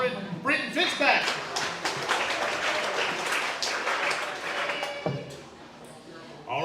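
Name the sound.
audience applause for a football player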